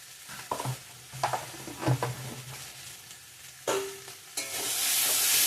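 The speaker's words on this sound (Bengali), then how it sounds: "আলুটা ভালো করে কষিয়ে নিয়েছি মশলার সঙ্গে" Boiled potatoes sautéed with chili, coriander and cumin powders in a pan, heard as scraping stirs and soft sizzling in uneven bursts, rising to a louder hiss near the end.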